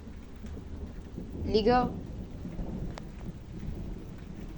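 Heavy rain pours steadily during a thunderstorm while a thunder rumble swells midway, followed by a sharp crackle; someone speaks briefly over the storm.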